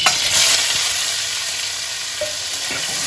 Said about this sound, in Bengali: এবার এই তেলের মধ্যে আমি এই ধুয়ে রাখা মাছগুলো দিয়ে দিচ্ছি।